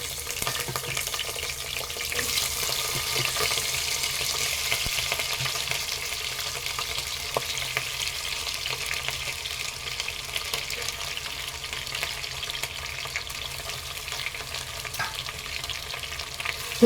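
Cut potatoes fry in a pan with spluttering mustard seeds, a soft, continuous sizzle with light crackles that holds steady throughout, no talking.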